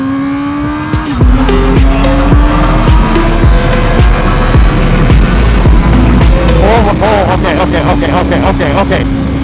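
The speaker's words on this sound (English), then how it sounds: "I want you to experience this with me, the acceleration of this bike" A 2023 Honda CBR1000RR-R SP Fireblade liter sport bike accelerating hard, its engine note climbing steeply through several gear shifts, loud and close, with a rider speaking over the roar.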